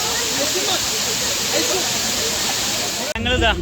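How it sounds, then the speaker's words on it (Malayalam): A waterfall near Yellapatty gives off a steady, loud roar of rushing water. The roar holds continuous and close before shifting abruptly near the end. "ഒരു വെള്ളച്ചാട്ടത്തിന്റെ ഒരു ഒരു ആംബിയൻസ് കിട്ടും അവിടെ നല്ല രീതിയിൽ"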